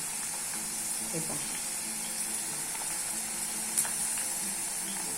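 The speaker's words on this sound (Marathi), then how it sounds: "अशी तळून घेते भेंडी मी लालसर येऊपर्यंत" Okra (bhindi) frying in oil in a home kitchen, a steady soft sizzle with occasional stirring clinks, while someone speaks briefly over it.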